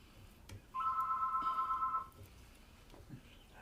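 A telephone rings once with a short electronic warbling trill of about a second, fairly clear over quiet room noise with faint knocks and movement around it.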